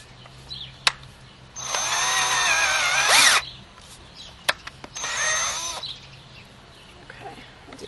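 A power drill bores holes into a log for mushroom inoculation, running in two whining bursts of a couple of seconds each, with sharp clicks and bird calls in between.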